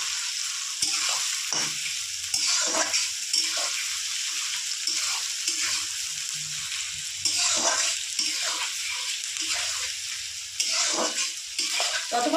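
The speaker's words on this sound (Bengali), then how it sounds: "পেঁয়াজটা একটু হালকা লাল করে ভেজে নেব।" Onions frying in a pan to a light brown, with a steady bright sizzle and intermittent stirring scrapes, close and continuous throughout.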